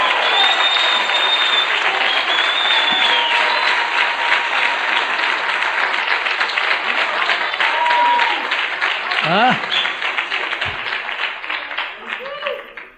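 Steady, dense applause from a large audience at a church conference, loud and continuous for most of the clip before thinning out near the end, with brief voices and whistles rising over the clapping.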